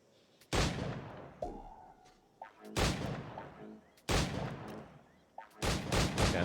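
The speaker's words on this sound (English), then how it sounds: "these slow old flintlock pistols" Flintlock pistols fire in Red Dead Redemption, four loud booming shots spaced a second or two apart, each with a decaying rumble and reload clicks in between.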